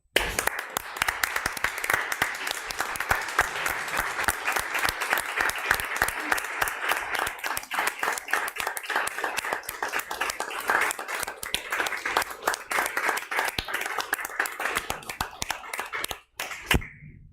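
Loud, sustained applause from the audience at a city Board of Aldermen meeting honoring a police department worker, dense rapid clapping close by that keeps an even intensity for about sixteen seconds before cutting off abruptly.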